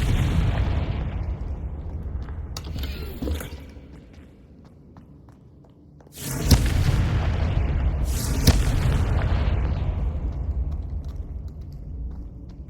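A Confringo fire-blast spell in the Hogwarts Legacy video game goes off as two loud, sharp explosive bursts a couple of seconds apart, followed by a rumbling roar over a low background drone.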